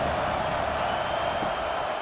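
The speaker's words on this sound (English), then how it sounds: "Decibels rising as the crowd gets behind this defense on 3rd down." A steady, loud roar from a stadium crowd cheering for the defense on third down in College Football 25, Maryland vs. Clemson. The dense crowd noise holds evenly through the short moment without breaks.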